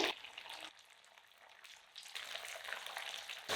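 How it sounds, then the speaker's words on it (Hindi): Steamed potato-rice snacks frying in hot oil, a soft, steady bubbling sizzle that fades briefly and then rises again, heard alone without talk. "फ्राई होते हुए 1 मिनट हो चुका है"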